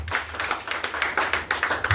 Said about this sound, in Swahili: Sipigie kwa Yesu makofi mazuri katika jina la Yesu.